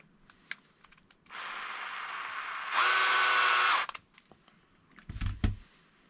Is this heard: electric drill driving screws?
yes